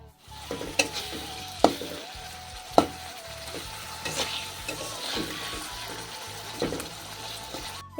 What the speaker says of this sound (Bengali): মশলাটা দেখো কষিয়ে নিচ্ছি ডিম তরকারির জন্য